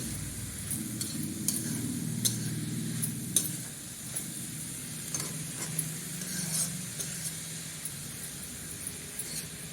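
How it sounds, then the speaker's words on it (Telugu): Cabbage curry is stirred in a pan with a spoon, giving repeated soft scraping strokes over a low steady sizzle. The sound is quiet and close, with no talk. "మంచిగా కలుపుతూ ఉండాలి"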